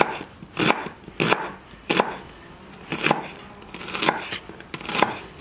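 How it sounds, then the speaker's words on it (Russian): Sharp knife strokes finely dice an onion on a cutting board at a steady, unhurried pace, each crisp thunk clear and close. "Мелко нарезаем в кубиках и добавим фарш прямо."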